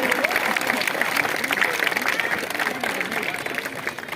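Audience at a football tournament prize ceremony claps in a steady, dense wash of applause for the players, with crowd chatter and voices mixed in throughout.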